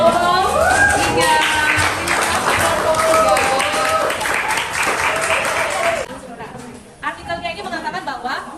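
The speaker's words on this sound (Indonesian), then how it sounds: "silakan tepuk tangannya untuk Lolo." Classroom applause after a student presentation, a burst of clapping mixed with loud chattering voices that stops abruptly, followed by quieter talking.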